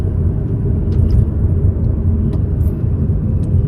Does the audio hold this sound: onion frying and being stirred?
no